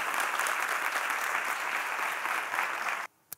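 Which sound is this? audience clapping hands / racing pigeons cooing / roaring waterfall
audience clapping hands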